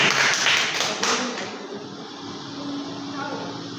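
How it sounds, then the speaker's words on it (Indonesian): A classroom of students claps hands during a basic teaching skills lesson, a loud burst of clapping at the start that fades quickly into quieter room sound with some voices. "Tepuk tangan dulu."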